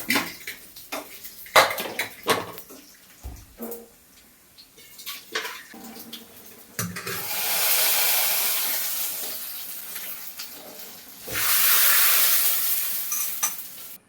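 A pressure cooker in a home kitchen lets out two loud, sustained bursts of hissing steam, preceded by scattered clinks and handling knocks of utensils.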